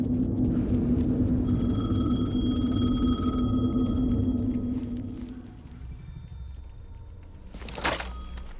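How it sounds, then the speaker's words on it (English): A telephone rings in Alan Wake 2, with steady tonal ringing over a low rumbling ambience for several seconds before it stops, followed by quieter dark atmosphere and a short burst of noise. "The phone again."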